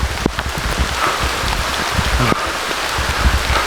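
Heavy rain pours down steadily during a backpacking hike on a mountain, a loud, dense patter of drops on surfaces close by with no speech.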